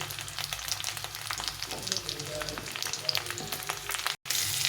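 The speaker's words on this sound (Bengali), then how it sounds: "আলু আর কচুটা একটু ভেজে নেব" Potato and taro pieces fry in a pan for a ridge gourd curry, giving a constant close crackling sizzle with scattered pops and occasional stirring scrapes, alone and without talk, briefly cut out near the end.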